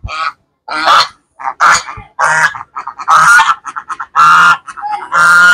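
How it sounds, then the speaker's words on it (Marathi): Ducks honk and quack at night in a rapid, loud series of calls, close by, with brief pauses between bursts and no talking. "आणि हा आहे आवाज. हे बदक दिसत असेल तुम्हाला."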